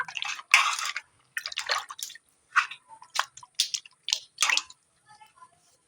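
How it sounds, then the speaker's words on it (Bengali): Taro being washed by hand in water, heard as close, irregular splashes and wet sloshing bursts separated by short pauses. "কচু কিন্তু ভালো করে ধুতে হবে নালে কচু মাটি থেকে যাবে কচুতে"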